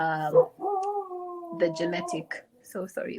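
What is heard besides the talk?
dog howling in the room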